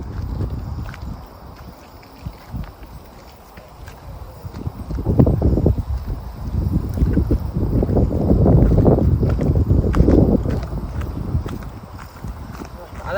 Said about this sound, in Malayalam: ഈ സമയത്ത് ഒരു ഇവിടെ അത്യാവശ്യം നല്ല കോടയും നല്ലൊരു കാറ്റുമാണ് തണുത്ത്